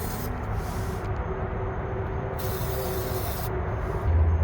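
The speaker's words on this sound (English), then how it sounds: "the last thing here is battery terminal protector, so it's just spraying all the terminals here" Battery terminal protector sprays in short aerosol hisses onto battery terminals during a Victron Smart Shunt install, steady close bursts with brief pauses between them.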